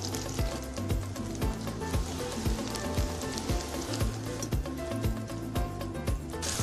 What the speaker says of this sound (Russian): Также постараемся выложить их равномерно, чтобы обжарить одной партией.